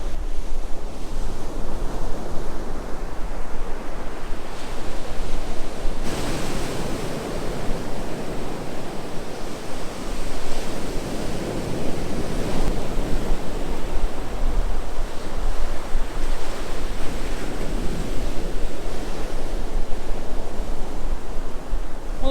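Ocean waves of an incoming tide wash onto the shore near a marker post, a loud continuous roar of surf and spray with gusts of wind buffeting the microphone, no voices.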